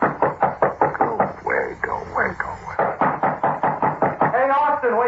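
A door is knocked on in rapid repeated bursts, loud and close, with a short break of mixed sound in the middle before the quick raps resume.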